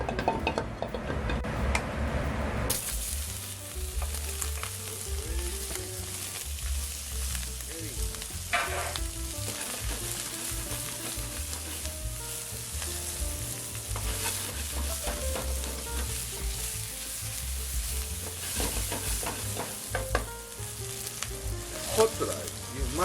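Sausage fried rice sizzles loudly in a pan over a high flame. Steady frying crackle runs under repeated stirring and scraping strokes, all close by.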